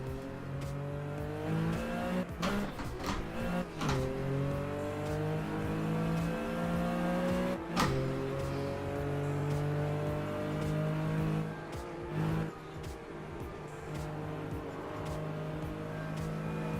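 A Porsche in a racing video game holds a sustained engine note that climbs and drops through gear changes, with brief sharp shifts and a steady whine, heard continuously with no voices.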